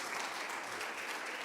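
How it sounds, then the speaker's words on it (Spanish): A church congregation applauding, a dense, even wash of many hands clapping at moderate distance, sustained throughout with no break. "un aplauso para ellos"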